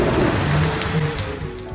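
Steady rain falls outdoors, a dense, even hiss of drops on surfaces, close and continuous with no voices.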